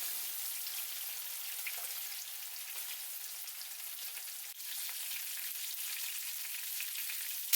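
Chicken drumsticks roasting and frying in a pan, browning on all sides: a steady, dense sizzle with soft crackles that runs unbroken throughout, close up and with no voices.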